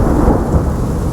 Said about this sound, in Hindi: इतनी भयंकर बारिश हो रही है